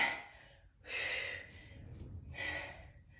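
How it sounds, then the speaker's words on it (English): Heavy breathing close by during an upper-body workout with heavy weights: a quick sharp inhale, then two long, forceful breaths out, like someone panting between efforts. "Puffing and panting my way through this."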